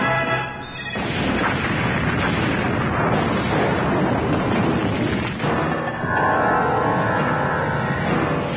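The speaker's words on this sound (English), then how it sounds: "Explosion in engineering access corridor 47B." An explosion tears through an engineering access corridor aboard a spaceship, a loud sustained roar and rumble that carries on for several seconds without letting up.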